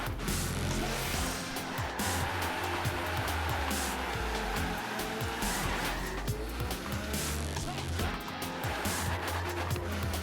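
Car drifting around a car park in Forza Horizon 3, engine roaring steadily with continuous tire squeal and skidding, loud and unbroken throughout with no talk over it.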